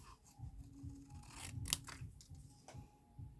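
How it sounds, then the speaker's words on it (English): Scissors snip through paper close by, a few soft crunching cuts with brief pauses as the sheet is turned, quiet and with no talking. "Open your scissors again, start closing it, and just turn the paper."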